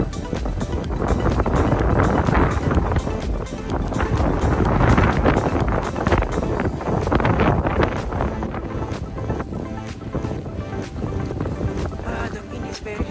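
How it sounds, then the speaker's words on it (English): A strong winter wind, near 70 kph, drives blowing snow during a Winnipeg snowstorm. Loud, continuous roaring buffets the microphone in gusts and eases slightly toward the end. "The wind is very strong. It's very cold."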